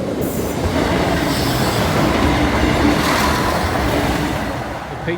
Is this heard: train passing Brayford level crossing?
yes